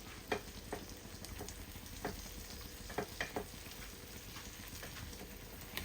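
Cashew dish frying in a pan on low heat, a steady soft sizzle with intermittent scraping and tapping of a spoon as it is stirred, close and fairly quiet.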